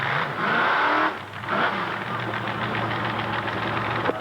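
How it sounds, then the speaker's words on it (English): A 1974 Plymouth funny car with a 402 Chevy engine, racing at Motion Raceway in the early 80s. Its engine roars and drones with a harsh, uneven note that holds steady, then flares briefly near the end. "This is a 1974 Plymouth with a 402 Chevy engine."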